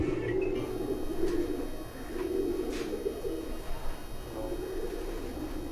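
Pigeons cooing on a rooftop in Jalalpur Bhattian, soft repeated low coos rising and falling over a few seconds, fairly close, with a faint background hum and no talk.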